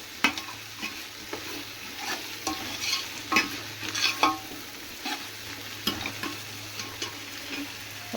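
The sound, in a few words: masala spices being stirred and fried in a pan for pulao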